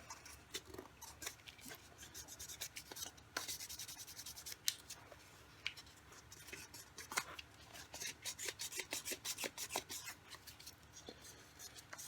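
Wet sanding with 1000 grit sandpaper on a leather holster gives faint, repeated rasping strokes in an uneven rhythm, close up and quiet, with no voices.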